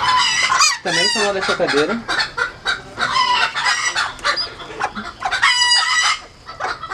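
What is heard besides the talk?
bantam hen clucking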